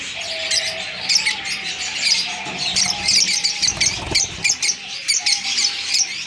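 A colony of Fischer's lovebirds chirps in a breeding aviary, producing a busy, close chorus of rapid high tweets and squeaky calls over a low steady hum, with no talking.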